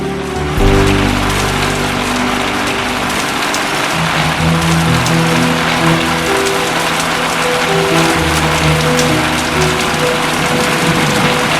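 Steady, loud rain pours down continuously, a dense hiss of drops with a low hum of tones underneath.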